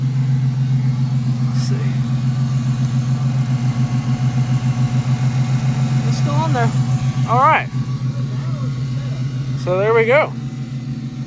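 A drift project car's engine idles steadily and loudly with a new header and exhaust but no tune, a constant low rumble throughout while people talk nearby.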